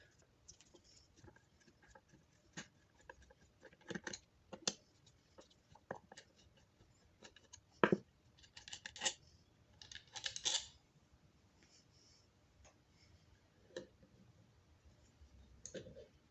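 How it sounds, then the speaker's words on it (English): Two Phillips head screws being backed out of a car distributor, heard as scattered small clicks, screwdriver scrapes and faint metallic ticks at close range, intermittent across a quiet background. "first we need to take out these two Phillips head screws"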